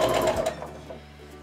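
A sewing machine stitches a quilt block in a short, close burst of rapid needle clatter. The sound fades quickly into quiet.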